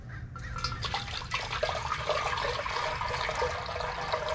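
Motor oil pours into an LS engine oil pan, a steady trickling, gurgling liquid stream with small splashes that continues throughout, close and moderately loud.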